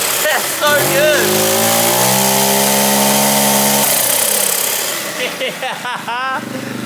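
A turbocharged 125cc go-kart engine with EFI revs hard through a loud exhaust, rising whines and fluttering turbo pulses sweeping up and down around a steady drone, very close and dominant with voices mixed in.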